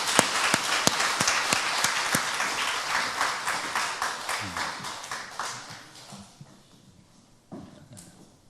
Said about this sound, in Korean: 우리 강명식 교수님에게 우리 감사의 박수 한번 올리도록 하겠습니다